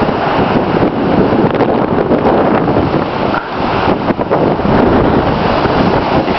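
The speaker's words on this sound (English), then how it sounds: "Just had a wicked gust of wind here" A strong gust of wind during a wind storm at North Battleford roars across the microphone, a loud, steady buffeting rush that swells and dips slightly for the whole stretch with no other sounds on top.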